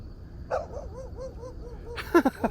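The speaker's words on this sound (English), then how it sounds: "look at my neighbor's dog" A neighbor's dog defending its territory outdoors, giving a few sharp barks near the end after a stretch of softer background sound, moderately distant.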